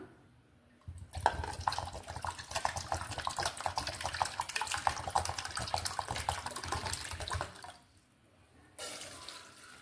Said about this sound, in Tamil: அந்த அளவுக்கு தண்ணி ஊற்றிக்கலாம்.